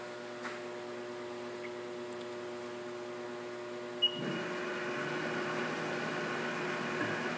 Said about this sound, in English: I'm going to go ahead and turn the spindle on for you